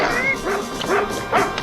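A cartoon dog from an 1980s G.I. Joe episode barks and yips in short bursts, loud and close, over background music and voices.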